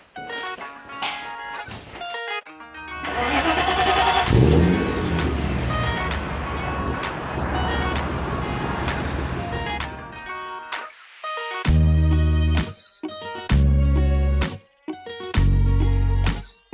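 A 1993 Mercedes 500E V8 sedan being driven, its engine note rising as it pulls away and holding a steady loud drone, then rougher bursts near the end.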